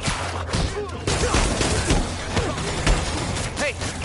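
Gunfire bursts in the Spider-Man PS4 video game, repeated shots scattered through a busy, dense mix of game sounds with speech-like voices woven in.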